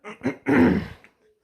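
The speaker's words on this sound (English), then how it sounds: "I gotta clear my throat" A single throat clearing, a couple of short rough bursts followed by a longer harsh rasp, close and fairly loud, with no talking.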